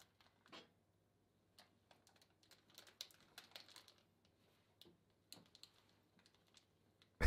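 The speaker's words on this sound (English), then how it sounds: "Open the pack of crisps." A crisp packet crinkles and crackles as someone struggles to tear it open, sparse soft bursts of rustling spread out near and quiet, ending in a louder rip, in an otherwise silent room.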